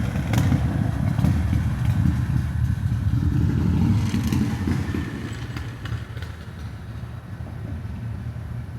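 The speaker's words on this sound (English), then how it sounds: "Salaki, here comes this loud ass motorcycle." Loud motorcycle engine rumbling close by, a heavy throaty roar that peaks early and gradually fades as the bike moves away, leaving a lower drone at the end.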